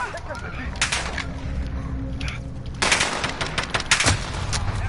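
Rapid gunfire from a pistol in the shooter game Modern Warfare, with dense repeated shots and game ambience throughout, louder bursts near the end.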